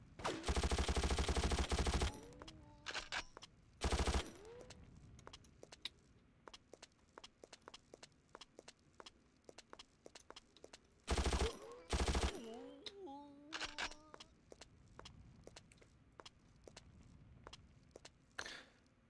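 Gunfire in the shooter Mortyr 2093-1944: several loud, dense bursts of automatic fire separated by stretches of quieter single shots and footsteps, with metallic ringing tails, close and sharp.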